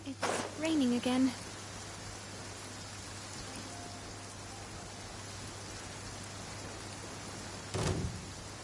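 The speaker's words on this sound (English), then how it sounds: "It's raining again." Rain falling in the video game Genshin Impact, a steady soft hiss of drops that runs throughout under brief bursts of game voices and sound effects near the start and end.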